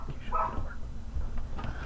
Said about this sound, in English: my dog's going crazy